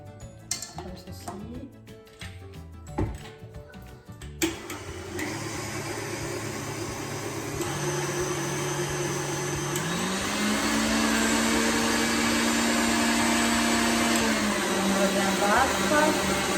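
An electric mixer whirs loudly and continuously as it beats sugar into apple yogurt cake batter, its pitch shifting partway through, after a few seconds of clattering kitchen handling at the start.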